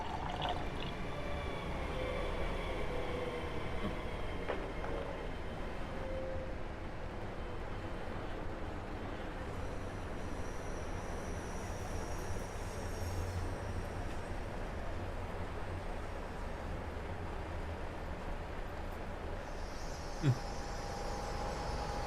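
In the game Train Sim World 6 a train pulls into a station platform, with a long, steady rumble and hiss as it rolls in, some whining tones and a sharp clunk near the end.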